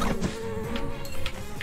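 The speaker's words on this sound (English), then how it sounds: "These bees really want you." Bees buzzing in the video game Secrets of Grindea: a loud, close, continuous insect drone with a wavering pitch and no voices over it.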